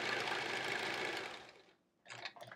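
A sewing machine stitching quilt fabric for a Triangle Tango quilt runs in a steady fast whir, stops, then gives a brief second burst of stitching, close and clear.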